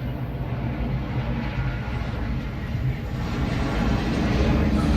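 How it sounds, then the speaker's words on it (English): An aeroplane passes overhead as a broad, steady low roar that swells slightly toward the end, with no other distinct sounds on top. "Another aeroplane is coming."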